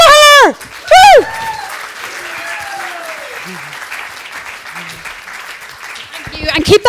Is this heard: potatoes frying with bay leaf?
no